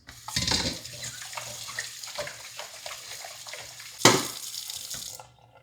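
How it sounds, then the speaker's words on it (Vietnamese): Running water from a tap splashes over a devil fish (ugly fish) being rinsed after a salt-water wash, a steady gush with two louder bursts of spray as the fish is moved under the stream. "thì chúng ta sẽ rửa lại nhiều nước"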